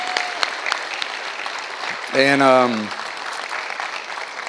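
Church congregation at a Sunday worship service applauding new members Terry and Cindy: a steady wash of clapping from many hands throughout, with a voice speaking briefly over it partway through.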